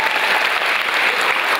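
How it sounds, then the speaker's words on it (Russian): An audience at a KVN comedy league show in Novosibirsk applauds, giving a short, dense and steady burst of clapping that fills the hall with no talking over it. "Аплодисменты еще раз"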